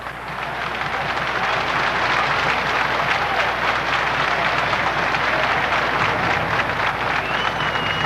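Dense, continuous applause from a large crowd fills the whole stretch, a steady roar of many hands clapping with a hum of voices underneath.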